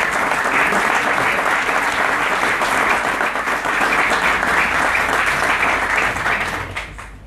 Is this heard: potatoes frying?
no